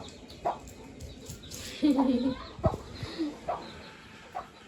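A hen and her newly hatched chicks give soft clucks and peeps, a few short calls scattered among quiet rustling, close by at a home, with faint voices in the background.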